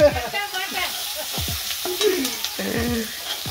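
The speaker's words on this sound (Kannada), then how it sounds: "ಈರುಳ್ಳಿ ಸ್ವಲ್ಪ ಫ್ರೈ ಆಗಕ್ಕೆ ಬಿಡಬೇಕು" Onions frying in oil in a pan for uppittu, a steady sizzle with repeated scraping and stirring strokes close up.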